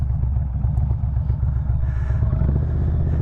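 A motorcycle rolls slowly through a tight circle during a slow-race riding drill, its engine a steady low rumble near at hand with light mechanical clatter and no sharp revving.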